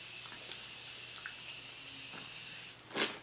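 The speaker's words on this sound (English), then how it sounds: "So I'm going to take my Morphe Continuing Misting Spray." A single short burst of fine setting mist sprayed onto a face, close and fairly loud, following a few quiet seconds of low background hum.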